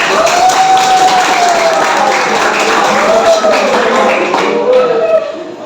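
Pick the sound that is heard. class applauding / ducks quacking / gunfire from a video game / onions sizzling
class applauding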